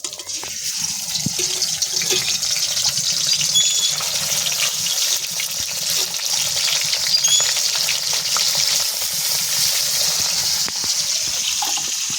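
Fish pieces coated in turmeric and salt fry in hot oil, giving a loud, steady sizzle with a bright hiss that holds across the whole stretch, along with occasional splatter pops and no voices.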